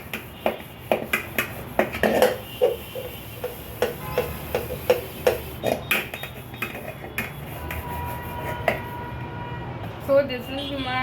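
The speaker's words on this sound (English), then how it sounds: "When I'm scrubbing it, this is very nice." A Gala green scrub pad works over a metal rice utensil crusted with hardened rice, giving repeated short scraping strokes and metallic clinks close by, with a person talking over them.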